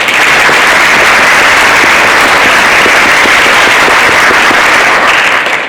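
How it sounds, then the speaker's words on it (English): Loud, dense applause from an audience at a school's eighth-grade parent enrollment presentation, honoring the counselors; steady clapping fills the whole stretch without talk. "Big round of applause for all the counselors."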